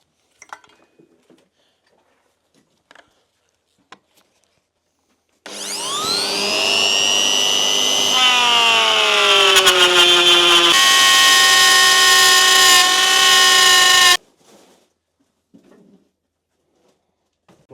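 A router with a 12mm straight bit cuts a dado about 8mm deep in wood, its whining motor spinning up loudly, holding a steady tone for around eight seconds, then stopping abruptly, with only faint handling sounds before and after.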